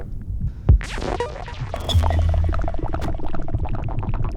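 Soft, watery underwater-style movement sounds from the Softpop 2 synth with flanger, muffled pops and a steady low throbbing hum, one sharper thump early on, no voices.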